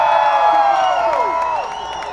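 Crowd at a Groundhog Day talent show in Punxsutawney cheers and whoops loudly in a sustained burst, with shrill voices sliding over a dense roar of applause, the noise tapering slightly toward the end.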